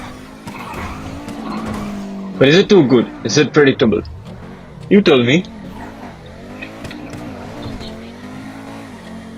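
A $2 million supercar corners hard, its tires squealing in several short, loud bursts over a steady engine drone, while someone talks throughout.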